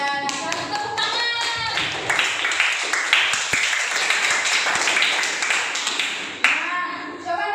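A classroom of students applauding a classmate, a dense burst of many hands clapping that carries on for several seconds before fading out, with voices mixed in.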